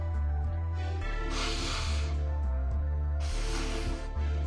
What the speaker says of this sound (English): I gotta blow my nose, excuse me.